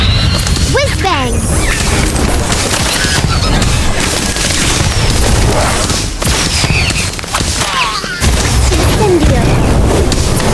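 Whiz bang spell cast in the Harry Potter: Magic Awakened video game, a continuous dense barrage of booms, crashes and crackling bursts filling the whole stretch at loud level, with game voices mixed in.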